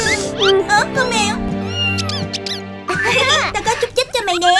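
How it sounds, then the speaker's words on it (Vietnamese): A cartoon cat meows several times in a Gacha-style animated scene, with high wavering cries and squeaks mixed among busy animated voices and music throughout. "Con mèo."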